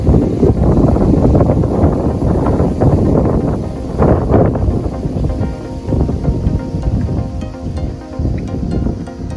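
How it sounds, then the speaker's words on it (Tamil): Strong wind after a storm in Australia, gusting across the microphone among coconut palms with fallen fronds and husks below; a loud, steady roaring rumble that eases slightly midway and keeps blustering throughout, with no voices. "இப்போ பார்த்தீங்கன்னா மேலே காற்று நல்ல பலமாக வீசுது."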